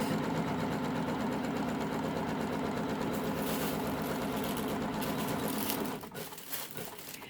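An embroidery machine stitches down a design with a loud, continuous, rapid mechanical hum and chatter. It runs steadily, then eases off and thins out near the end. No one speaks.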